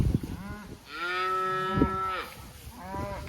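A cow in a herd of cattle, calves, yearlings and bulls lets out two long, loud, drawn-out moos close by, followed by the start of a third, with no talking.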